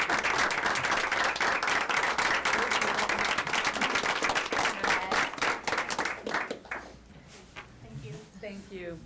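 An audience at a board meeting breaks into loud, full applause that thins out after about six seconds, leaving scattered claps and a voice speaking.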